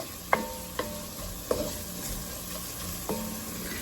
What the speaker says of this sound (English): Give that a good stir and just let those go for about a minute till it's fragrant. You don't want the garlic to burn.